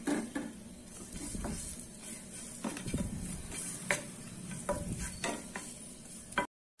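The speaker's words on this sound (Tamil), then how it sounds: "இப்போ இந்த புளி வதங்கிருச்சு" Tamarind sautéing in oil in a pan, a soft continuous sizzle broken by repeated scraping stirs and light clinks of a spatula. Near, moderately quiet, no talking, ending in a brief cut to silence.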